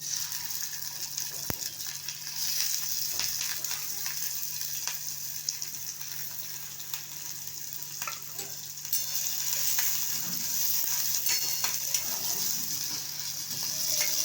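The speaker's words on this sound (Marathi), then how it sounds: "तेल तापलेलं आहे चांगलं याच्यामध्ये आता कांदा आणि कढीपत्ता घालूया" Onion and curry leaves fry in hot oil in a pan, giving a steady, moderately quiet sizzle with occasional stirring clicks and no speech.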